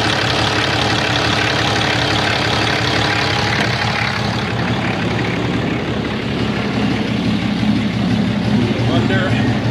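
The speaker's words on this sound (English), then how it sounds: "That rattling noise is just my dipstick" A 2015 RAM 6.7L Cummins diesel idles with a steady low rumble, its loose dipstick rattling faintly in the mix, close by and continuous throughout.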